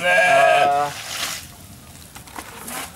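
A goat bleats once on a farm where fermented banana-stem feed is being given, a loud, close, quavering call in the opening second, followed by quieter rustling and background noise.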